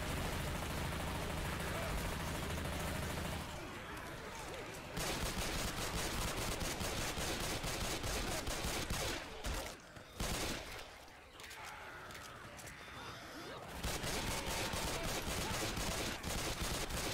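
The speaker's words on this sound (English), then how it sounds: "Yep, that's me shooting." Player's gun in Left 4 Dead 2 firing in rapid automatic bursts, dense and loud, with short pauses between volleys and game chatter mixed in.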